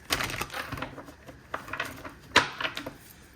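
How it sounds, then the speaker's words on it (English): A tarot card deck is shuffled by hand, giving a quick series of soft papery riffles and taps close by, with one sharper snap near the end and no talk. "we're going to shuffle this deck a few more times here"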